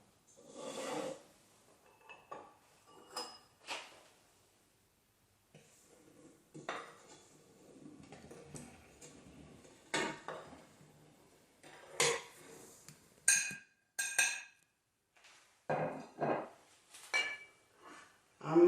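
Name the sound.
mixing flour, salt, cinnamon and baking powder in a bowl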